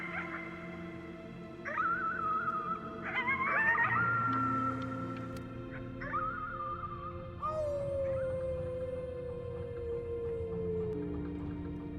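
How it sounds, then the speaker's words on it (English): A howl at the moon in the video game Before Your Eyes, long wavering tonal cries rising and falling over a steady musical drone, with a final long descending wail, sustained and fairly loud with no talk. "You howled at the moon at the top of your lungs."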